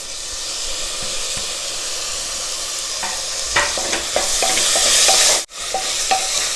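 Chopped tomato goes into onion masala frying in a pan, a loud steady sizzle and hiss with scraping stirring strokes, one sharp burst of spitting steam, and no talk.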